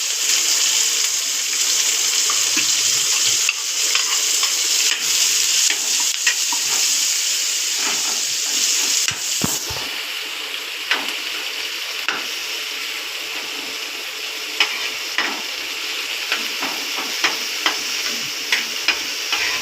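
Chopped onion with chillies fries in hot oil with mustard and cumin seeds in a pan for potato bhaji, a steady loud sizzle with scattered pops and crackles throughout, no voices.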